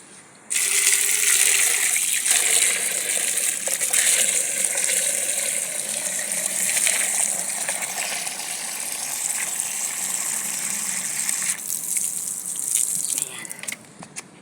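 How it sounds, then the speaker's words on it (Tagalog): Water pours steadily from a container onto stone-like fertilizer around garden plants, a continuous close splashing gush lasting about thirteen seconds before tapering off. "dagdagan natin ulit ng tubig sa fertilizer"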